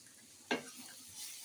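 A single quick scrape of a spatula through vegetable bhaji stir-frying in a pan, followed by a soft, faint sizzle.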